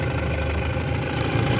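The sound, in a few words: vintage Mercury outboard motor starting up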